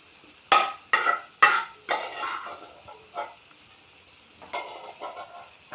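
Cooked squid is dropped into a hot frying pan for Kerala-style squid thoran, giving a series of sharp sizzling bursts with scraping stirring in between, close and fairly loud, with no talk.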